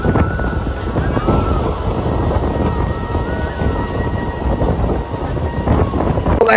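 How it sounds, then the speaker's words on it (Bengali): A passenger train at a railway station, a steady broad rumble with wind buffeting the microphone throughout, close and fairly loud, with no talk over it. "এটা দেখতে পাচ্ছ ট্রেন, এটা প্যাসেঞ্জার ট্রেন"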